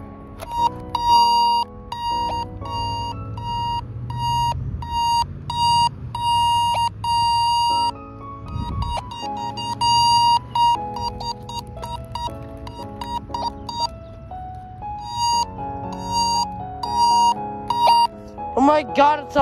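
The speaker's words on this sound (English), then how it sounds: "it sounds like one of those system sensor alarms that you would put on the wall" A loud electronic smoke detector alarm in test mode beeps in rapid repeating bursts, a high piercing tone broken by short pauses, with a low hum underneath.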